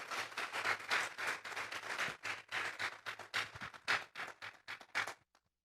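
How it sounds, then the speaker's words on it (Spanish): A church congregation applauds with sustained, dense clapping that keeps a steady beat for about five seconds, then stops abruptly, over a low background hum. "Denle un fuerte aplauso al Señor esta tarde."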